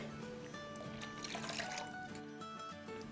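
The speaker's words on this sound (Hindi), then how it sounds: "और अब 1 कप और पानी डाल देंगे इसमें।" A cup of water trickles and splashes into a pot of Punjabi pakora kadhi, a quiet pour of a few seconds with liquid dribbling throughout.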